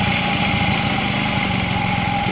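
The small engine of a 1985 Honda Vision scooter runs steadily at a fast idle, close and loud, with an even buzzing drone and no pauses.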